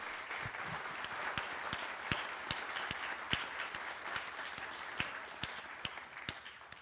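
An audience at a book presentation claps for a guest being introduced, a fairly faint, scattered applause with distinct individual claps standing out, continuing evenly throughout.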